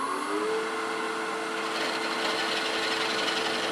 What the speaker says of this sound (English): I'm going to go ahead and drill a depth hole